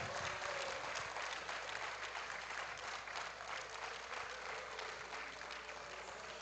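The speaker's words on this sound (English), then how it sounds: "Let's get a big round of applause" A large audience applauds Special Olympians at a powerlifting championship, a dense, steady wash of clapping that stays loud and even throughout with no voices standing out.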